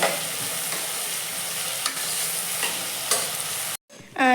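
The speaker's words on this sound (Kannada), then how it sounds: "ಟಮಾಟ ಹಣ್ಣು ಗಜ್ಜರಿ ಬೀಟ್ರೋಟು ಎಲ್ಲ ಹಾಕಿದ್ರು ಅವರು ಸೌತೆಕಾಯಿ ಎಣ್ಣೆಗ ಫ್ರೈ ಮಾಡೋಕ್ಕೆ" Tomato, carrot, beetroot and cucumber frying in oil for pulao, a constant bright sizzle with occasional soft stirring clicks, close up, cutting out briefly near the end.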